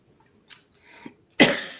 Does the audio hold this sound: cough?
yes